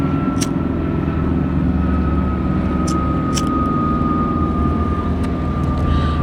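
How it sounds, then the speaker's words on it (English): An airplane passes overhead near an airport, a steady, loud engine drone with a thin whine that holds unbroken for the whole stretch, with no voices over it. "so you're gonna be hearing a lot of planes"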